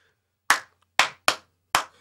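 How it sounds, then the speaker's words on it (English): Crowd at a prom clapping along to a beat, four sharp unison claps in a spaced rhythm, close and clear with silence between. "and everybody just clapping"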